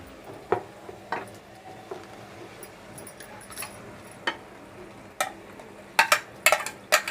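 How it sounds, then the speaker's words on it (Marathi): Mashed pav bhaji vegetables are stirred in sizzling oil in a home kitchen, giving a soft steady fry with scattered scraping spoon knocks and metallic clinks against the pan. "त्याच्यामध्ये आपण ही मॅश केलेली पावभाजी घालून घेऊया"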